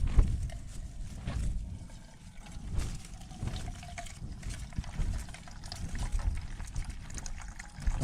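Collected water is poured into a water bladder at a wild camp on Lord's Seat, giving an uneven, gurgling trickle close to the microphone with faint rustling and no talking.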